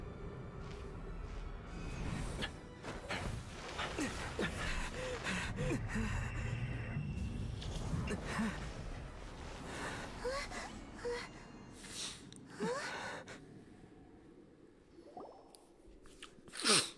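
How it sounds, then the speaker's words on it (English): Aether breathing in Genshin Impact: soft, close gasps and sighing breaths with faint moans, quiet and intermittent over a low background. "we get Aether breathing. That's what we get to hear"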